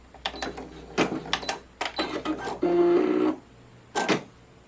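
A domestic embroidery machine with automatic needle threader stitches a short burst of steady whirring, amid handling clicks and knocks before and after.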